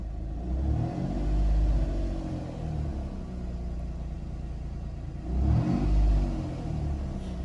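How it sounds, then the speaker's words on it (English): A car engine rumbles steadily, rising twice in brief revs before settling back to a low drone. "If I step on the accelerator a little bit,"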